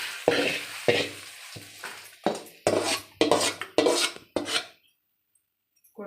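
Golden-fried ingredient tipped and scraped out of a pan into a dish in a kitchen, a series of close, sharp metallic scrapes and rattles in uneven bursts, followed by near silence.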